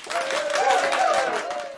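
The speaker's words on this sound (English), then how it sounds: "I'm clapping for you, TaRessa." An audience claps warmly to welcome an author at a book club gathering, a dense steady patter of many hands for under two seconds, with a voice speaking over the applause.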